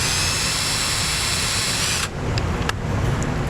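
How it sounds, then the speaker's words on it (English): A power drill whines at a steady high pitch drilling a hole in a rubber grommet on a 2011 Chevy Cruze, then cuts off abruptly, leaving a quieter background with a couple of faint clicks. "we're just going to drill a little hole right in here"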